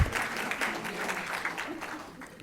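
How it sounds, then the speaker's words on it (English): Audience applause at a Columbus Metropolitan Club luncheon forum, a steady round of clapping from a seated crowd that starts at full strength and slowly thins over a couple of seconds, with some voices mixed in. "let's give them a round of applause"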